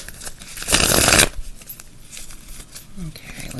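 Dia de los Muertos tarot cards being shuffled by hand, a burst of dense riffling crackle up close lasting about half a second, followed by quieter scattered card handling and soft taps.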